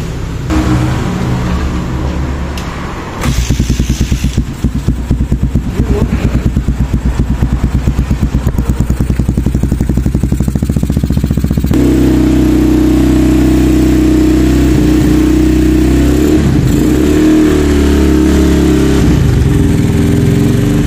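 A KRY 200cc motorcycle with a Power Bomb exhaust pipe idling loud and close, then blipped into sustained revving with a rapid throbbing beat, and settling into a steady, deeper drone for the rest.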